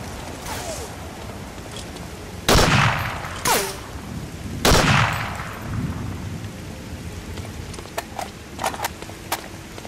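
Rain and thunder in the World War II shooter Medal of Honor: Spearhead, set in the Battle of Berlin: a steady rain hiss broken by several sharp, loud thunder-like cracks and booms, then scattered smaller crackles.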